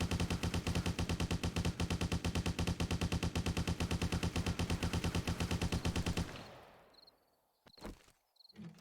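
Ashmaker gun from a 7 Days To Die mod firing a rapid, evenly spaced automatic burst for several seconds, then cutting off into a fading tail followed by a few sharp mechanical clicks.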